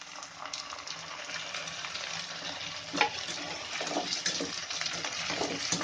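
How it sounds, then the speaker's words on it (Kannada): Chopped tomatoes frying in a hot pan for vangibath, a continuous close sizzle with stirring and scraping that grows slightly louder after the tomatoes go in, no talk. "ಈಗ ಟೊಮೆಟೊ ಹಾಕ್ಕೊಳ್ತಾ ಇದ್ದೀನಿ."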